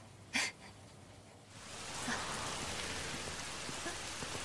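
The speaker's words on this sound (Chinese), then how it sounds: "下雨了。" Steady rain falls outdoors, a soft broadband hiss that swells in after a short quiet start with one brief sharp sound, then holds as continuous moderate rainfall with no talking.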